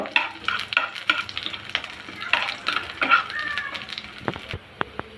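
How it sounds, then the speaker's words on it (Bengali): Hot oil sizzles continuously as garlic fries while a utensil scrapes and stirs the pan, followed by a few sharp taps near the end. "দিয়ে দেবো রসুন রসুনটা ভেজে নিব"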